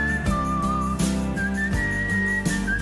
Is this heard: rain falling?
no